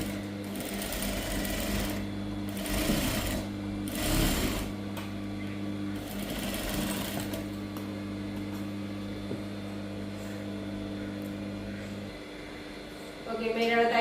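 A sewing machine stitches a saree blouse lining in quick, steady runs of close, loud motor hum and needle chatter. The runs break into short pauses and restart, then a faster burst comes at the end.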